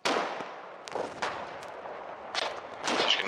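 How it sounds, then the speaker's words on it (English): Anti-tank rifles fire at heavy tank destroyers in the war game Foxhole, giving a string of sharp cracks and bursts that echo at moderate distance over a steady rumbling battle background. "anti-tank rifles are firing at the heavy tank destroyers"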